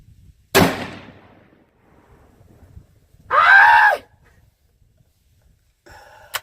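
A single sharp shot from a Ruger American Predator rifle in 6.5 Creedmoor cracks loudly at the start and decays quickly, followed later by a short shout and a faint clink, with quiet gaps between.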